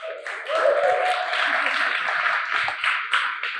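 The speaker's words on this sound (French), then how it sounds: "On applaudit" Short burst of audience applause at a Paris startup demo day, a room of clapping hands heard fairly close, steady for a few seconds.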